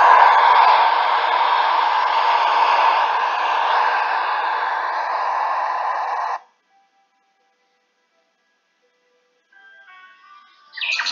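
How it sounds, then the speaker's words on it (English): Steady broadband rushing like strong wind blowing continuously for several seconds, then cutting off abruptly into silence before a faint clattering sound near the end. "Sound of wind."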